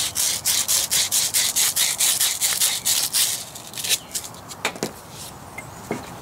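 Rusty car ball joints being scrubbed by hand, a rapid, rhythmic rasping back-and-forth close up that steadies for a few seconds, then slows into scattered scrapes and brushes.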